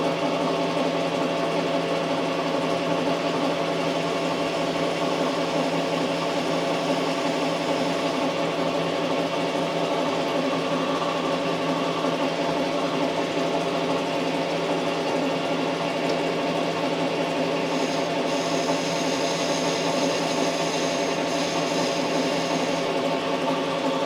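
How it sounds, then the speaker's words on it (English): A lathe turning a stainless steel thumb screw at 654 rpm while chamfering its edges gives a steady, close, tonal machine hum. A brief, thin, higher cutting sound rises briefly near the end. "I'm going to chamfer these"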